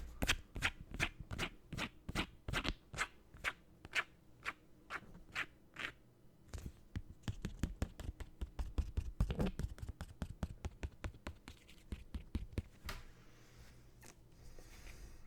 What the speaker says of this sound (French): je vais m'empresser de mettre sous sleeve, ces deux cartes